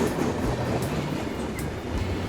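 A wooden toy train runs along its railway with a loud, continuous rumbling clatter, close and steady throughout, with no voices.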